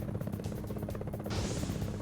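An enemy helicopter in a PlayStation 1 game, a steady dense rotor thrum and buzz filling the whole stretch, growing a little brighter and louder partway through, no voices.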